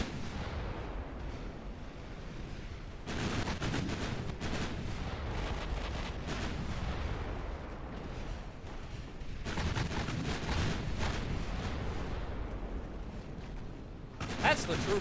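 Torpedo hits on ships in a naval battle game land as repeated heavy booming blasts and rumbling explosions, with dense bursts at intervals over a continuous roar of battle noise.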